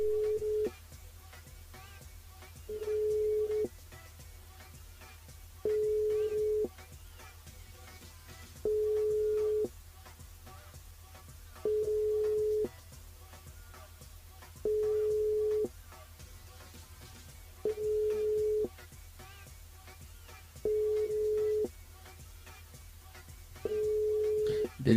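Repeating tone from a telephone call carried on a live radio broadcast, with even beeps about every three seconds over a low steady hum.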